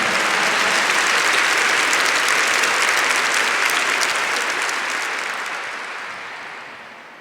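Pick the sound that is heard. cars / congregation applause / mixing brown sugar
congregation applause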